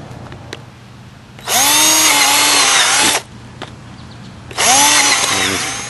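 A power drill bores drainage holes in a wooden potato box: two loud, close bursts of whining motor and cutting, the first about two seconds long and the second shorter, separated by quiet.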